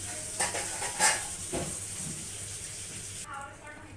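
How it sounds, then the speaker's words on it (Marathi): Yogurt mixed with butter masala sizzles and is stirred in a pan, with a soft continuous frying hiss and a few clinks of a spoon scraping, close and fairly quiet. "आता दही आणि जो मसाला बटर मसाला होता तो एकत्र केलेला तोही आपल्याला छान भाजून घ्यायचा"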